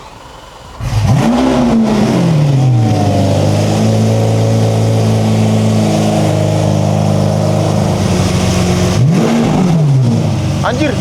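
A Lamborghini or McLaren supercar engine idles loudly and steadily up close, with a sharp rev and fall at the start and another brief rev near the end.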